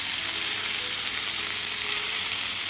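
Chicken 65 pieces frying in hot oil and being stirred, a loud, steady, dense sizzle that runs unbroken and close, with no voices.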